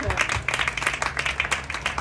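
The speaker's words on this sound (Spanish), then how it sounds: "Un aplauso." Audience applause for an activist at a book presentation in a bar, dense clapping with voices mixed in throughout, steady and moderately loud.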